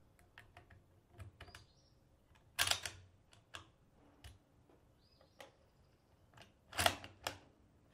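Five cartridges are pressed from a stripper clip into a Kar 98 rifle, giving a series of faint close metallic clicks and scrapes with a couple of sharper snaps, no talking.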